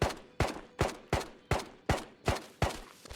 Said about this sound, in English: I think that's them getting shot at now by someone from research.